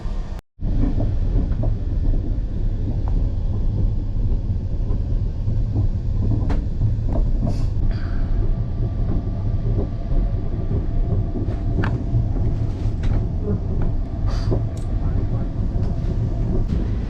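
An Indian Railways train running from New Delhi to Jhansi, heard from inside a first AC coach as a loud, steady rumble with rhythmic rattles and occasional sharp clicks and knocks of the carriage, continuing throughout.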